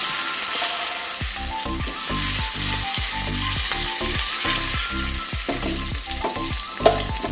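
Dried red chillies, fenugreek and curry leaves crackle and sizzle in hot oil for a raw mango sweet curry tempering, with steady close frying and repeated rhythmic stirring or spattering bursts and no voices.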